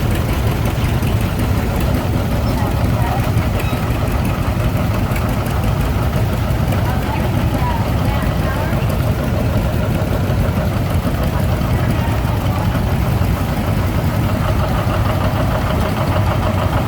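A vintage John Deere 730 tractor engine from Chesaning, Michigan runs at a show in a continuous, loud, steady low rumble that holds for the whole stretch.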